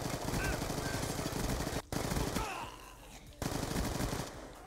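An MSMC submachine gun fires in the video game Black Ops 2 in rapid, tightly spaced automatic bursts, breaking off briefly twice before resuming, with a faint voice in the background.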